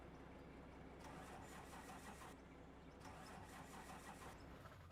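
A truck engine in a video game cranks and catches twice, each start a rough mid-pitched rumble settling toward idle, fairly quiet and heard without talk.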